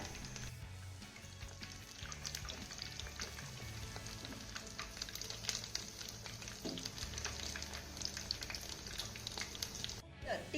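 Tikkis of puffed rice mixed with gram flour batter frying in oil on a low to medium flame, a steady crackling sizzle with occasional stirring clinks while a voice talks over it.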